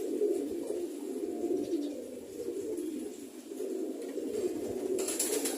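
Pigeons in a loft, including homing and Giribaz birds, coo continuously in low, throaty, overlapping rolls close by, with a faint rustle near the end.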